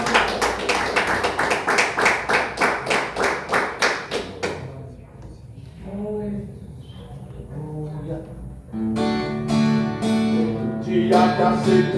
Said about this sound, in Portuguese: As palmas que eles vão fazer.